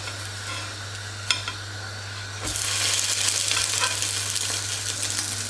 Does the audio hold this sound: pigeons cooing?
no